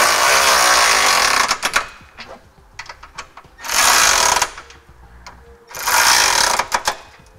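A power tool drives trailer hitch fasteners on a 2012 Dodge Journey during a Curt receiver install, in three loud, close bursts of whirring and rattling impacts with short quiet gaps between them.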